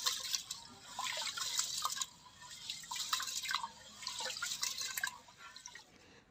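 Basmati rice washed in a bowl of water makes close, wet swishing and sloshing sounds in uneven bursts, with drips and splashes between them.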